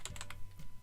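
Quick keystrokes on a computer keyboard, a short burst of about five close, crisp taps in uneven rhythm, heard alone.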